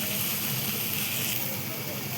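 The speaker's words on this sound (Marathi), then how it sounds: "तर त्याला आपण भाजी टाकून घेऊया मध्ये." Ambadi (sorrel) greens dropped into a hot pan of sizzling chili and onion, giving a steady loud hiss and crackle of frying throughout with no pause.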